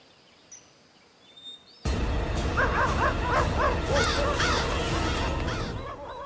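Cartoon dogs break into loud, repeated barking after a short near-silent lead-in, a rapid string of yaps and barks carried over a busy music-and-effects bed.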